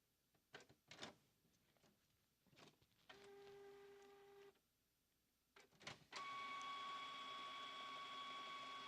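A printer runs through a print job, with scattered clicks and clunks, a steady mechanical whir of paper feeding, a pause, then a louder sustained tonal whine of the print head, close and without speech.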